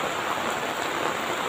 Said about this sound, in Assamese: এই বৰষুণ এই বৰষুণত